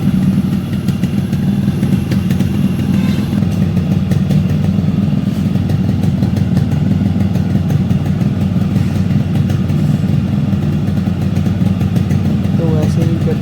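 A rebuilt Yamaha RX135 two-stroke motorcycle engine runs on its first start after a piston rebuild, a loud, steady close-up idle with rapid clattering pulses, with someone talking over it.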